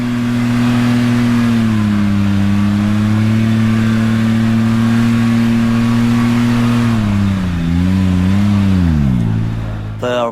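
A Polaris Ranger 1500 side-by-side engine revs high and steady while climbing a hill, a loud sustained drone that holds pitch, dips briefly, then surges and falls near the end, with light voice under it.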